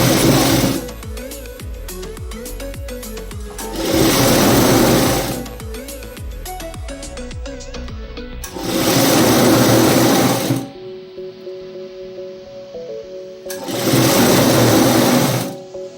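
A sewing machine stitching a folded blouse hem whirs in three sustained bursts, with a steady mechanical hum between them and a pause near the middle, close and loud, with no talking.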